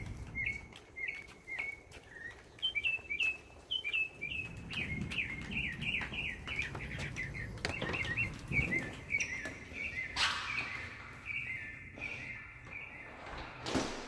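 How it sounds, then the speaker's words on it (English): A small bird outside a house sings a repeated run of bright chirping notes, moderately close, with faint scuffing and footsteps underneath. "I was fascinated by this bird."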